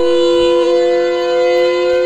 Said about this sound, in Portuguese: Isso é uma sirene?